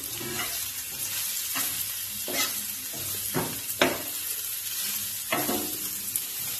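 Rice frying in ghee, stirred with a steel spatula: soft continuous sizzle broken by a series of sharp metallic scrapes spaced about a second apart, moderately close.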